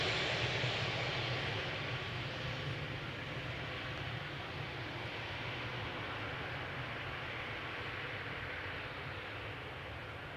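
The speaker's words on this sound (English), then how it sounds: "KLM E2 Embraer 195 arrived from Copenhagen." A KLM Embraer E195-E2 airliner arriving at Schiphol, a steady, fairly faint broadband engine roar that holds evenly throughout and eases off slightly toward the end, with no talk.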